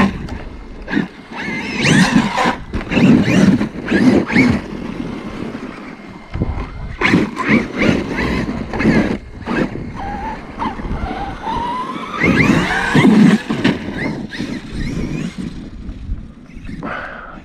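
Traxxas XRT RC truck with a Castle MMX8S 1717 1260kv motor and Proline Dumont tires running in snow, its motor whine surging and fading in repeated bursts, loud and close, with wind and crunching across the run.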